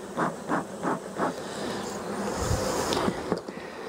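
Honeybees in an opened hive being heavily smoked, a dense steady buzzing hum close by, with a few soft rhythmic puffs from the smoker at the start.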